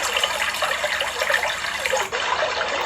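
Steady rushing water, loud and continuous like a strong tap or stream, with a brief dip near the end before resuming.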